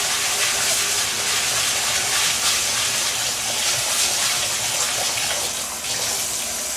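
Rice washed by hand in water for onigiri, a steady close splashing and sloshing as the grains are rolled and rinsed, running without pause.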